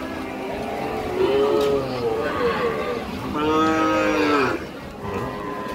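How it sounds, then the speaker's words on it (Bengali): Cattle moo repeatedly at a busy morning cattle market in rural Raipura, Narsingdi, long lowing calls rising over a constant crowd murmur and background voices. "গরু বাজার"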